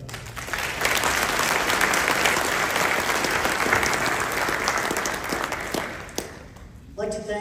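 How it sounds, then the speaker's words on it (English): Sustained, enthusiastic applause from a sizable crowd at a military change of command ceremony, tapering off near the end as a voice begins speaking. "I'd just like to give them just a small round of applause"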